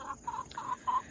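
Backyard chickens cluck in their enclosed coop, giving a quick run of about five soft, close clucks in an even rhythm with no talking.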